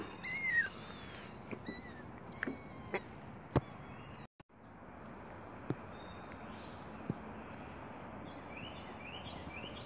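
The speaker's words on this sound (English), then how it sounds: "This one can barely meow." Faint, thin kitten meows repeat a few times early on, then fade into a quiet hiss with occasional soft clicks.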